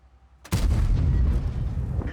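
A World of Tanks tank gun fires a single loud, close boom after a short quiet lead-in, followed by a long rumbling decay that carries on to the end.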